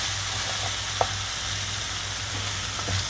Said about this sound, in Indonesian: kemudian kita aduk lagi. Ya, aduk sampai rata